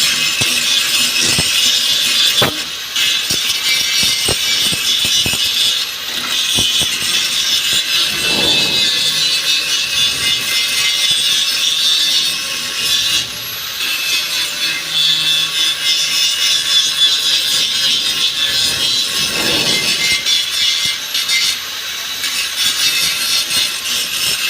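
A power grinder working metal, a steady harsh high-pitched whine that runs almost unbroken at close range, with brief dips as the disc shifts and no talking over it.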